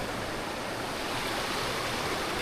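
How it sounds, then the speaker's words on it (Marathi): A forest stream near Ghatkara waterfall in Shahapur rushes steadily, a dense, loud, unbroken roar of flowing water heard close by, with no voices over it. "आम्हाला एक असा ओढा लागला आहे, तो आपल्याला पार करायला लागतो"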